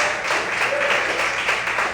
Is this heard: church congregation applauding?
yes